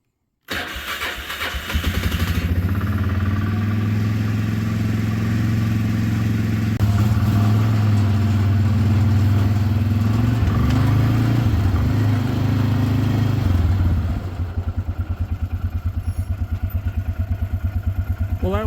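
A tractor engine cranks and fires, then runs with a loud, steady rumble that dips and shifts as it is driven off to be parked, before settling into a rougher chugging idle. A voice can be heard under the engine.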